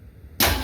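A 1967 Mustang engine cranks on a start attempt, a sudden loud burst of mechanical churning cutting in after a brief near-quiet moment.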